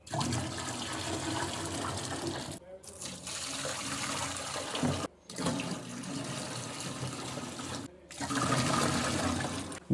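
Steady rush of water poured from a jug into large homemade popsicle molds in a village, a continuous loud splashing stream broken by three brief pauses as the pour shifts, with no talking.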